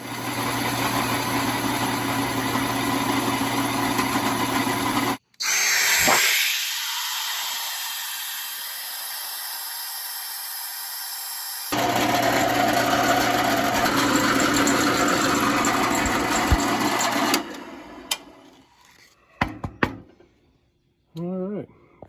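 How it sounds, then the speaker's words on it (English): A power tool whines loudly in sustained bursts, cutting out and restarting, then stops, leaving scattered clatter and handling noise. "let's drill another hole"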